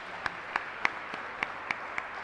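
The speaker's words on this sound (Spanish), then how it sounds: "fuerte aplauso." A small church congregation at Mass claps in a slow, even rhythm of about eight distinct claps, soft and somewhat distant over a quiet room, with no talking.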